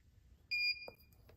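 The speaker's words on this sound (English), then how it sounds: "When you hear the beep, it's done." A TPMS sensor registration tool gives a single short, clear electronic beep while a tire pressure sensor is registered on a 2018-or-later Honda Goldwing, followed by a faint click in otherwise quiet surroundings.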